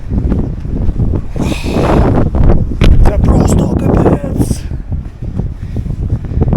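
Strong gusting wind roars across an exposed mountain trail on Madeira's Vereda do Risco, a loud continuous buffeting with microphone rumble that sits beneath a person talking throughout.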